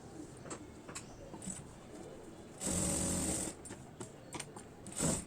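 A sewing machine stitches lining into a boutique-style blouse, a soft close hum broken by short louder runs of rapid stitching and a few small clicks.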